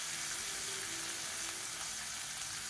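Two medium tomatoes and five dried red chillies frying in hot oil, an even, continuous sizzle heard close and at moderate loudness throughout, with no voices.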